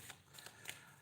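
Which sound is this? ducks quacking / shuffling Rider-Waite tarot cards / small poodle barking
shuffling Rider-Waite tarot cards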